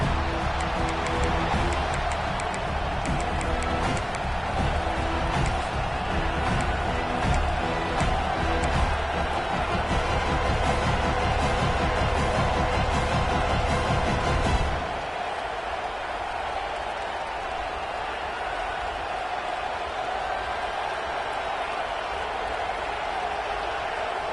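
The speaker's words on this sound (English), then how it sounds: "This crowd bringing an ear-splitting welcome to their visitors." Loud, steady roar of a stadium crowd cheering in an American football video game, a dense wash of noise that runs for about fifteen seconds, then drops to a quieter crowd murmur.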